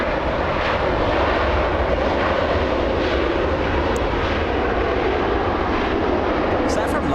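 Condor Airbus A330 airliner landing at Los Angeles International Airport, a loud, continuous engine rumble held close, with voices faintly present beneath the noise.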